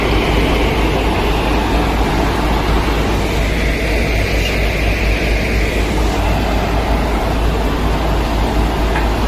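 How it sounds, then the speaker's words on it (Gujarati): A local passenger train pulls away, with a constant heavy low rumble and a broad mechanical drone that holds steady throughout. "હવે ટ્રેન ઉપડશે."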